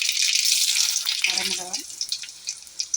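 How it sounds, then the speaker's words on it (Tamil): Mustard seeds splutter in hot oil for a drumstick-leaf stir-fry, a bright crackling hiss that thins into scattered pops, with a brief voice partway through. "கடுகு போட்டுடலாம். ஆயில் நல்லா ஹீட் ஆகணும்."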